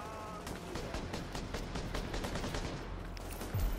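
Turret gunfire in The Division video game, a fast, dense burst of repeated shots crackling steadily through the whole moment, fairly faint and with no speech over it.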